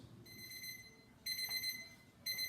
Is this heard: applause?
no